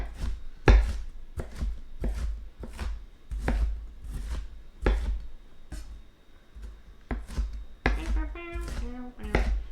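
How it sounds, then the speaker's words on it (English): A knife chops onions on a cutting board with steady, close, crisp strikes repeated through the clip. A voice hums or whistles briefly near the end. "You can't tell I'm still cutting up onions."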